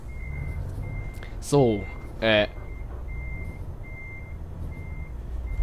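Two short electronic reversing beeps from a truck in Euro Truck Simulator 2 sound over a low engine rumble, with a faint steady tone recurring in the background and a single spoken word.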